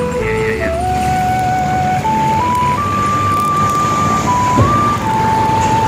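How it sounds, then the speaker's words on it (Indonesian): A loud motor vehicle passes on a narrow road through a fishing village, its steady engine rumble close to the mic and joined by a wavering electronic melody like a vendor's jingle. "Lagi-lagi ada mobil, jadi kita tunggu dulu gantian"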